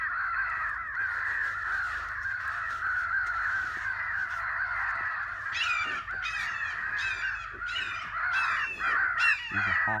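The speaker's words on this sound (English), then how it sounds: "now that I got out of the stand, I can actually hear a crow" Repeated harsh crow caws ring out in bursts over a steady background hum in the woods. They come in quick series and grow denser toward the end, and they sound moderately close.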